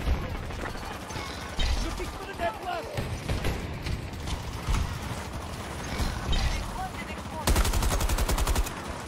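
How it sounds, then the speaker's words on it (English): Rapid bursts of automatic gunfire from a weapon in the shooter video game Battlefield 2042, loud and repeated in clusters with a heavy burst near the end, under a steady mix of game effects and talk. "Go with the best sounding gun in the game"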